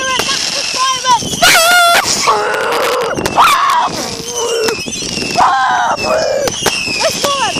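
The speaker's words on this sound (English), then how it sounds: "We're at massive fireworks." Massive fireworks display exploding, with sharp broadband bursts and crackles repeating throughout, close and loud, under excited shouting and talking from an outdoor crowd.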